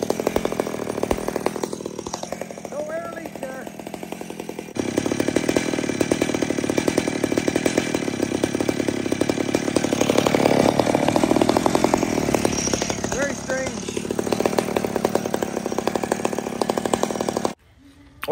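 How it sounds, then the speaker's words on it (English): Old McCulloch chainsaw with a running problem, idling and revving close by for a long stretch with an uneven, rough engine note, cutting off abruptly at the end. "I'm having problems with this saw."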